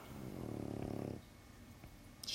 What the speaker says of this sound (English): I keep nudging her to try and get her to stop snoring, but she is refusing.